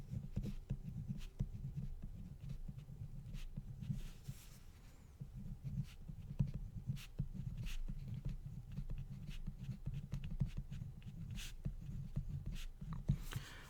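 Pen or marker writing an equation: steady scratching and tapping strokes, close and quiet, continuing with brief pauses throughout.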